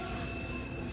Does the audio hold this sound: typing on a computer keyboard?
no